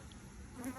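A shaken-in swarm of honey bees hums steadily inside a hive, a faint, continuous close buzzing with no talk.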